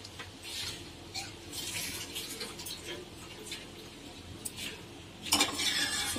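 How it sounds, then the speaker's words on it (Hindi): A spoon stirs a thickening Parle biscuit dessert mixture in a cooking pan, with faint scraping and soft clinks against the metal, quiet and continuous, ending in a slightly louder clatter. "चलाते हुए पकाएं"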